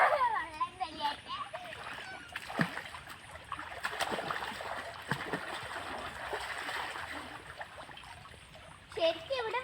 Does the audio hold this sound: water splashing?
yes